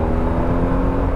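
BMW R1150GS Adventure motorcycle engine pulling hard under steady throttle, a close, loud, continuous low drone with wind noise and no break across the clip.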